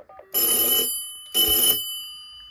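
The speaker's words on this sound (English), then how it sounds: "I'm going to try ringing it because I've not actually heard this ring yet" A loud mechanical bell on an MS-303 wall telephone rings in two bursts, each about half a second long, separated by a short pause, close and harsh.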